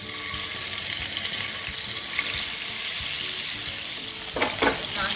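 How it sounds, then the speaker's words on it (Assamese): Fish fry in hot oil in a wok over a gas flame, a dense, steady crackling sizzle that stays close and even throughout, with no voices. "তেল গৰম হৈ গ'ল, এতিয়া মাছকেইটা ভাজি লওঁ আমি।"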